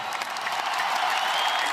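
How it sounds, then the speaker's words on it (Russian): Applause from a concert audience in Barcelona: dense, steady clapping from a large crowd, filling the whole stretch at an even level with no voices standing out. "Аплодисменты на концерте в Барселоне продемонстрировали."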